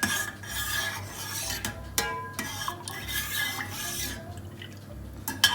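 A spoon stirs milk with saffron strands and cardamom powder in a pot, a steady soft scraping and swishing with light liquid sloshing and a few small metallic knocks, close and continuous.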